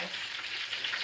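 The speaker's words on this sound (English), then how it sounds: "I'm frying some more." Chicken cutlets frying in a pan for chicken parmesan, a steady close sizzle with crackling spatter and no talk.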